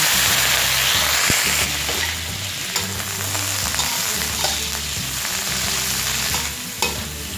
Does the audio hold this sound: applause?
no